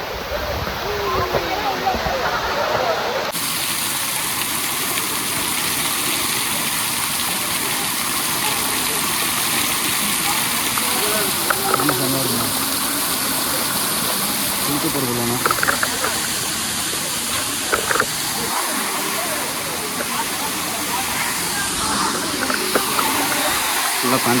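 Chinna Suruli Falls in Theni district pours with a steady, full rushing roar of falling water close by, a continuous wash that persists throughout while people talk intermittently over it.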